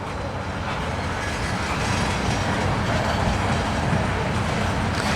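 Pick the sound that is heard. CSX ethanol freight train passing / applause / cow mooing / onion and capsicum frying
CSX ethanol freight train passing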